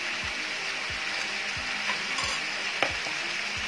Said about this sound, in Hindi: अब इसमें बाकी की चीजें डाल के इसको अच्छे से भून लेना है।